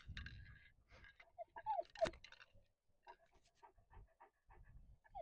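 A young retriever pants quickly and quietly after a marking retrieve outdoors, with soft breathy bursts, a few clicks and mouth sounds, fairly close but faint.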